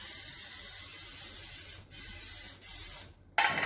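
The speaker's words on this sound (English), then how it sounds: "I'm going to spray each muffin tin" Cooking spray hisses onto muffin tins in a kitchen in a few separate bursts, the last short and close, with brief quiet gaps between sprays and no speech.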